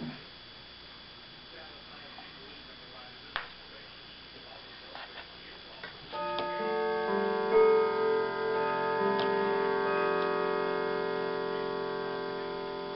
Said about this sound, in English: I hear Peter's clock there